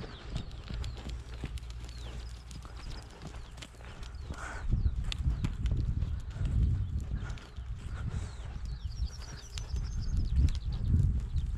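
Hooves of a horse being lunged on a line clip-clop steadily in a loose repeating rhythm, fairly close, with brief bird calls and scattered background noise alongside.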